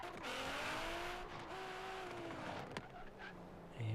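A 3,000 hp Nissan GT-R drag car in Forza Horizon 3 screams at full throttle, engine pitch climbing through gear changes with a brief dip, the whine holding loud and close before a short burst near the end.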